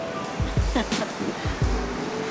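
Ocean surf heard through an open car window by the San Diego shore, a soft broad wash with low thumps and rumbles from the car, moderately loud and steady.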